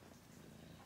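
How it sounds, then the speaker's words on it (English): A cream-colored cat purrs in a close, steady, low rumble with no pauses and no talking over it. "Let them hear you purr?"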